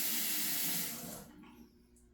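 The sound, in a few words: tap water running into sink while rinsing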